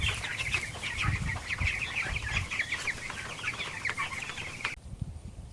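A flock of meat chicks moved out to pasture clucks and peeps continuously in a busy chorus, fairly close, with outdoor rustling underneath before the calls drop away near the end.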